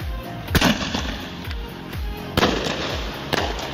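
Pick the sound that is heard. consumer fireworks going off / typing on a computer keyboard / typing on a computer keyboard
consumer fireworks going off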